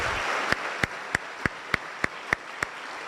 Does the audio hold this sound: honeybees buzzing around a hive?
no